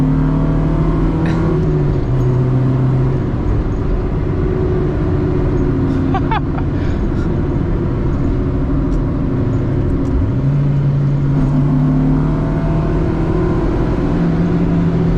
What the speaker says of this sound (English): So you guys can probably hear it, but these tires are loud as shit.